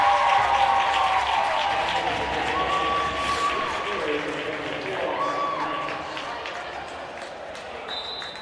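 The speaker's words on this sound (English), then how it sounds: "Big round of applause from the Lancer fans over there." Basketball fans applauding in an arena during a men's college game, a steady moderate wash of crowd clapping and noise, fairly distant, with squeaky-shoe-like tones over it.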